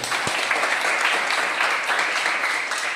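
Classroom students applaud a classmate during a biology lesson, producing a dense, steady patter of many hands clapping at once, loud and close, sustained without a break for a few seconds.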